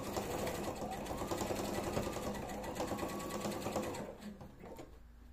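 Sewing machine stitching the side seam of a pair of trousers up to the zipper, running in a close, steady whir for about four seconds before slowing and stopping.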